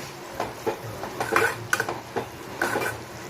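A spoon scrapes and clinks in a pan as onion, tomato and chili powder are stirred, with soft sizzling frying underneath; several irregular close scrapes over a few seconds.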